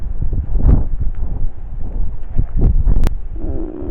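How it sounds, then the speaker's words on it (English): Wind gusts buffet the microphone outdoors at the Clophill St Mary's the Virgin church ruins, a loud, rumbling low roar that surges and dips throughout, with brief rustling and no talk. "The wind is getting up again. Please die down, wind."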